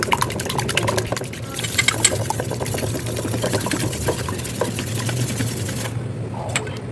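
Rapid wet clicking and sloshing of a fork stirring an eggplant omelette mixture with chili flakes in a bowl, a steady busy rhythm heard close up throughout.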